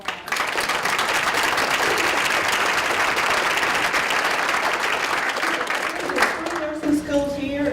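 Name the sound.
meeting audience applause for nursing students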